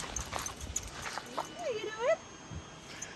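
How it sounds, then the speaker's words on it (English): A happy dog at a camp in Idaho lets out high, wavering whimpers and whines, a few rising and falling notes close by, between soft background thumps and rustles. "He's a happy dog."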